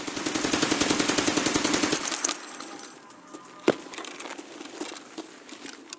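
A budget gun in Escape From Tarkov fires a rapid, loud burst of automatic shots for about two seconds, followed by quieter clinks, rustles and one sharp single crack.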